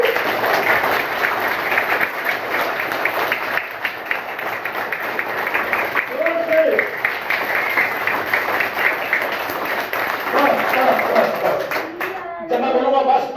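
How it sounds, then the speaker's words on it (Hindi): Schoolchildren and villagers at a primary school in a village settlement clap their hands in a fast, steady patter that runs continuously, with voices talking over it near the middle and end. "बजाइए भाई ताली"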